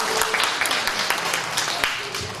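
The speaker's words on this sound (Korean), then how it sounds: "김건수 경상남도 대벌공사 사장님을 큰 박수로 환영하겠습니다." Applause from a church gathering crowd welcoming a guest, a dense patter of clapping with a few sharper claps standing out, fairly loud throughout the brief stretch.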